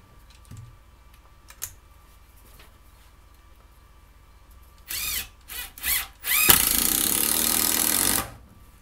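A Bosch impact driver, running on the same battery and bit, fires in a few short bursts and then runs in one loud sustained burst of about two seconds, close up after a quiet stretch with faint clicks.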